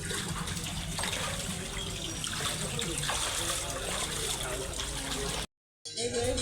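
Water runs steadily from a hand-washing tap at a temple: a continuous, close, rushing splash with a faint trickle. The flow is loud and unbroken, with a brief dropout near the end.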